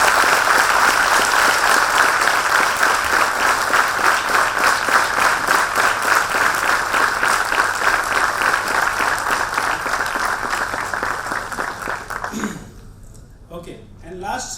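An audience at an event gives a speaker a loud, sustained round of applause, dense clapping that fades out near the end as the room falls quiet and a voice begins to speak.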